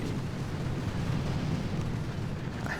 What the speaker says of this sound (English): Let's take down this boom cannon so it doesn't keep hitting